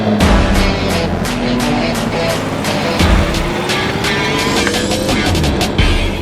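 A Chevrolet Camaro ZL1 screams through an autocross course, engine revving hard with repeated shifts and rising pitch, loud and close with tire noise.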